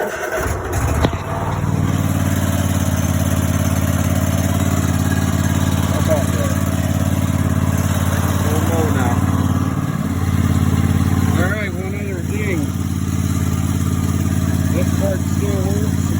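A Cub Cadet lawn tractor engine with a push-button start fault runs steadily and loud throughout, a constant low droning hum with a brief shift partway, while someone talks over it.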